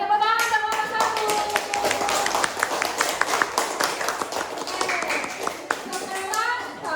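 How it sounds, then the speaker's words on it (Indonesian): A class of children claps for the first group with quick, uneven hand claps close by, mixed with children's voices and chatter throughout. "tepuk tangan untuk nomor 1"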